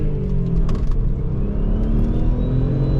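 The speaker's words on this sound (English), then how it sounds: "Let me accelerate from 0 to 100 to show you what the car can really do" An Audi S4 B5 pulls hard in first gear, its engine note rising steadily and loud up close, a continuous strained roar with whirring undertone and no talking.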